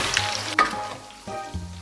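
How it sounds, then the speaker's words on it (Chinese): Hotpot base frying in hot oil with bean paste and chili sauce, a Chongqing beef-tallow hotpot, sizzling steadily up close with a sharp spatter burst partway through and a few soft clinks. "然后起锅烧油，锅里边来点豆瓣酱和来点辣椒酱，然后咱们给里边来一块火锅底料"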